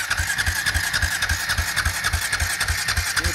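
Engine of a 2021 Ford F-150 Platinum pickup during a burnout, roaring loud and close with a steady throbbing pulse and a high whine above it, sustained without any break.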